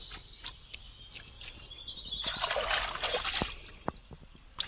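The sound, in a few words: washing fish with trickling water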